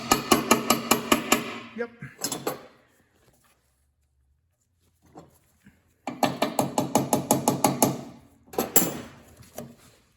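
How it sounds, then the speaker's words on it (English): Rapid metallic tapping seats a brake line fitting into a VW chassis pan, struck with an improvised tool rather than a hammer, in two close bursts of quick sharp strikes with a pause between, plus a brief spoken word. "you can tap it with a hammer. I don't have anything right here, so I'm gonna improperly use this."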